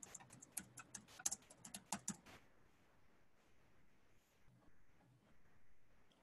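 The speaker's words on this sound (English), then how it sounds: "I am typing in the chat box." Rapid clicking of computer keys as someone types a message into an online chat box, a quick close burst of keystrokes that stops after about two seconds and leaves a quiet room.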